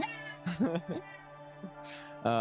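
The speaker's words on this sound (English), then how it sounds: "there's a cat going" A cat meows indoors, a few drawn-out tonal meows with a brief rising call near the end, moderately close, mixed with softer voice-like sounds in the room.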